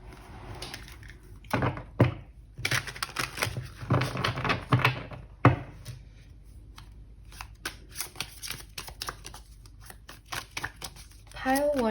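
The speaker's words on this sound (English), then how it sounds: "I just shuffle until I feel the cards are where they have to be" Tarot cards being shuffled by hand in bursts of riffling and sliding, close and fairly loud, with brief pauses and a few taps between shuffles; no talking.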